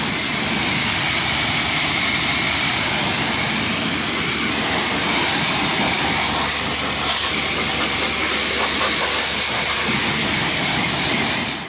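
A dirty car being rinsed with a pressure washer: a loud, steady spray hiss runs nonstop through the whole stretch, close to the listener, with no talking.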